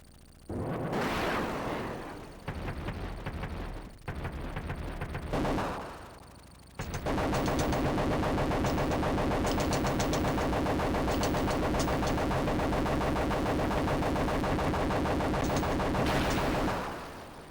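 Gunfire from tanks and a helicopter in the Sega Genesis game Desert Strike: dense rattling bursts with brief gaps, then a long unbroken stretch of rapid shots and explosions, loud and close.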